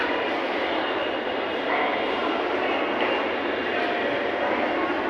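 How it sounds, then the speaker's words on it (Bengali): A metro rail car rolls along with a steady, loud broadband rumble and hiss that fills the cabin, with faint voices of passengers now and then beneath it. "আমরা এখন মেট্রো রেল।"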